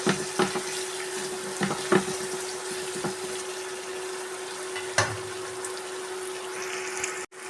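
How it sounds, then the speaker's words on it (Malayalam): Lemon curry sautéing in a pan with vinegar, asafoetida and salt, a steady soft sizzle with occasional clinks of stirring. "അല്പം വിനീഗർ കുറച്ച് കായപ്പൊടി ഉപ്പ് നന്നായി വഴറ്റിയെടുക്കാം"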